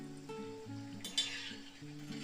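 Shankarpali pieces deep-fry in hot oil, giving a faint, steady sizzling hiss with one brief louder crackle midway, under quiet background tones.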